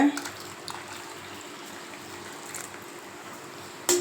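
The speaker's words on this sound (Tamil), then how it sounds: "வடிகட்டின தண்ணியை இதில் ஊற்றிக்கலாங்க" Strained thuthuvalai stem rasam water poured into a pot in a home kitchen, a soft continuous liquid stream at low level, with a brief clink of a vessel near the end.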